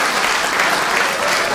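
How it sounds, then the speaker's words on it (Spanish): Loud, dense applause from a studio audience during a comedy prank segment, steady and continuous throughout with no talk over it. "¡Fuerte el aplauso!"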